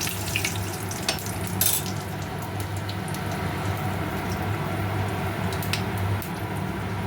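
Whole cumin seeds and dried red chillies fry in hot oil for a curry tempering, giving a steady close sizzle with small crackles and stirring scrapes, and no voices over it.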